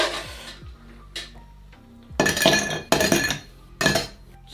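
Highball glass being filled: several bright clinks and clatters of ice against glass in short bursts, close and fairly loud, with no talking.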